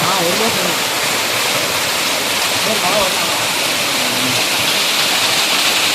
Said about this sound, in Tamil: இந்த இடத்துல யாராலுமே அசைக்க முடியாத அளவிற்கு தண்ணி கொட்டி கொண்டே இருக்கிறோம்